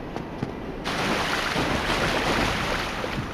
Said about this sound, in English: Oh, the water effects.